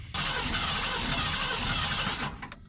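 A 1990 Ford F600 truck engine with a troubled carburetor cranks loudly and steadily for about two seconds without catching, then stops, leaving a few faint clicks.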